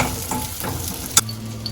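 Dried red chillies and curry leaves crackle and sizzle steadily in hot oil for an Andhra-style tempering, with a sharp stirring clink partway through and no voices.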